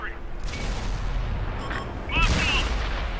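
A tank cannon shot strikes an IS-7 and blows its ammo rack in World of Tanks, giving a heavy booming blast followed by a rumbling explosion, with someone talking over the battle sounds.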